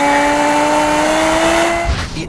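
BMW E63 M6 with the S85 V10 engine, over 500 horsepower and an 8,250 rpm redline, holding a loud, steady high-pitched rev before the note drops away near the end.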